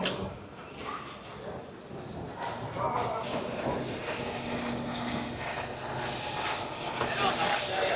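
A Paris elevated metro train on a line built in 1903 rumbles by with a soft hiss, fairly faint and distant, growing slightly toward the end, with voices present.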